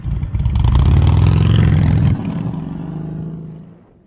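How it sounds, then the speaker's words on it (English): Harley-Davidson Street 500 motorcycle on its factory exhaust, a near, steady mid-pitched engine drone that holds for about two seconds, drops slightly in level, then fades away. "my bike still has the factory exhaust on it, which makes it sound like a sewing machine"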